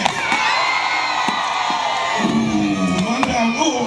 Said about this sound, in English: If you're cheering for the Reds, give us a cheer.